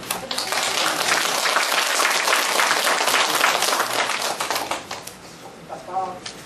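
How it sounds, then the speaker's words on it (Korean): Audience applause at a Korean humanities lecture on healing, a dense wash of clapping that holds steady for several seconds before thinning out near the end. "네, 박수 한번 주세요."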